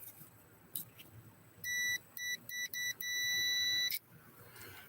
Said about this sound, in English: It's a continuity test.